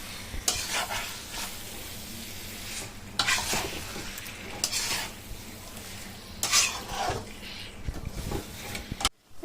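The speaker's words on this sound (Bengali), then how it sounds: "এবার এটাকে কিন্তু ভালো করে কষাবো" Mutton curry with potatoes being stirred and fried in a pan: close, steady sizzling with repeated scraping strokes of a spoon against the pan in bursts, no talking.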